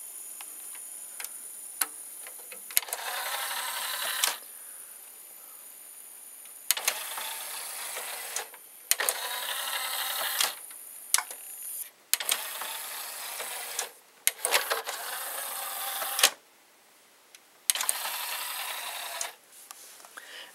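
Motor and gear turning the rotating plate inside a Technics SL-PD665 CD changer: close, whirring mechanical runs with light ticking, starting and stopping in repeated bursts of a few seconds, no voices.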